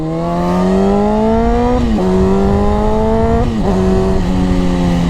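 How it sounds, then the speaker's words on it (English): A 2006 Honda CBR600F4i inline-four motorcycle engine revs loud and close, holding high steady tones that rise, then drop sharply twice with brief crackling backfire pops before climbing again. "You gotta love, that backfire. Gotta love a 4-cylinder."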